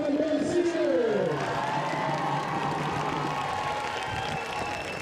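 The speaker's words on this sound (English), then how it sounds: "Let's have one more round of applause for Caitlin Garcia." Crowd applause and cheering at a high school football game, a broad steady roar of clapping and whoops with a loudspeaker announcer's voice fading out at the start.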